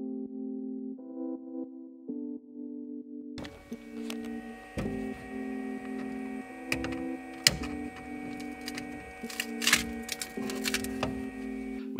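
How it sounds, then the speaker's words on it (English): A 3D printer printing the front half of a Lego-board sock sole, its stepper motors whining in shifting steady tones, first softly, then louder with irregular clicks and ticks as the print head moves. "get the front half of the sole printed on the 3D printer"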